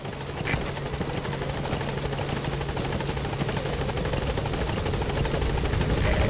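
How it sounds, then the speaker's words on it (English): A helicopter idling in place in Metal Gear Solid V, its rotor throbbing in a steady, loud, rapid pulse that holds constant throughout with no voices. "The chopper's waiting."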